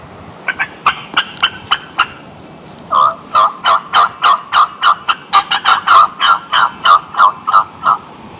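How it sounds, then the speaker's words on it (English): A wild turkey in North Carolina gobbles repeatedly in rapid rattling bursts, loud and fairly near, with no speech over the calls. "Usually they gobble right after you do that cut."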